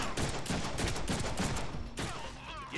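Rapid gunfire in the Deadpool video game, a dense continuous burst of loud shots that pauses only briefly before firing again.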